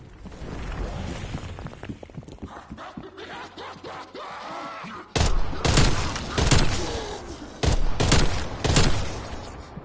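Bursts of video game gunfire with headshot hits, quieter scattered shots and movement early on, then several loud, dense volleys of rapid fire in the second half, with no talking over them.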